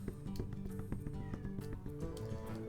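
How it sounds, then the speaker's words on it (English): A kitten yowls and mews repeatedly at close range in shrill, strained cries, with a busy low rumble and clatter running underneath. "I'm worried about that poor little kitten. She is shrieking at the top of her lungs because of nothing."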